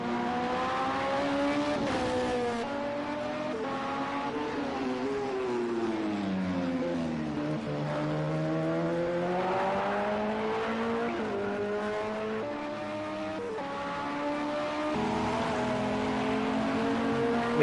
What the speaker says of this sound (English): he's really using the rev range on the downshifts there